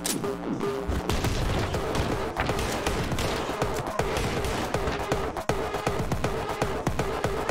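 Enemies fire guns in the fast-paced first-person shooter Anger Foot, producing rapid, overlapping shots and booming impacts that crackle steadily and loudly throughout.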